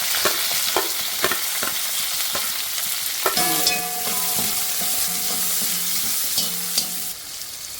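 Chopped garlic and capsicum fry in a hot pan for chilli beef, a loud crackling sizzle with repeated sharp stirring taps and clinks of a spatula against the pan, no voices.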